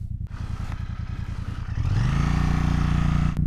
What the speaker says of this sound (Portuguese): Esse escapamento simples, ele soa muito bem, né?